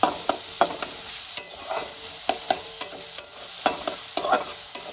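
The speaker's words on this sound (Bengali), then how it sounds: "তেলটা আমার গরম হয়ে গেছিলো, আমি পেঁয়াজ কুচি আর কাঁচা লঙ্কা কুচিটা দিয়ে দিয়েছি। এখানে একটু হালকা লাল করে ভেজে দিই।" Chopped onion and green chilli fry in hot oil, a steady sizzle broken by regular scraping strikes of a spatula stirring in the pan, close and without talk.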